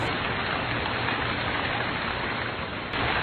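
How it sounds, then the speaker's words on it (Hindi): Rain falls outside at night as a dense, even hiss of drops that continues without a break, fairly loud and with no voices. "वो उठकर देखता है कि बाहर बारिश हो रही है"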